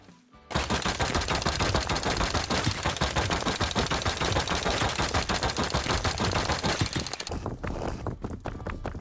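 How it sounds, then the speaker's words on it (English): Rapid, continuous automatic gunfire from the survival game Rust, loud and dense with bursts of shots nearly nonstop after a brief quiet start, with no voices. "You got a lot of gunfire."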